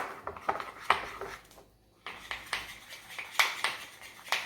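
Spoon clinking and scraping against a hot bowl while stirring melted Ghirardelli white chocolate, a run of sharp close taps with a brief quiet pause midway.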